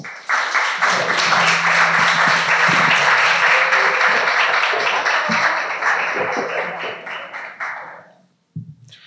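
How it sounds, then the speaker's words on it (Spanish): Audience in a music pedagogy department hall applauds student presenters with sustained dense clapping for about eight seconds, then tapering off into a few scattered claps. "les damos un aplauso"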